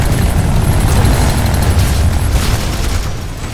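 Rapid chain gun fire in Planetside 2 at a Biolab, a dense continuous roar of booming shots that stays loud throughout and eases slightly near the end.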